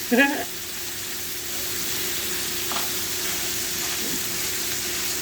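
Pork chops sear in a hot pan with a steady low sizzle and hiss, a brief louder clatter of stirring or turning at the start and faint soft knocks later.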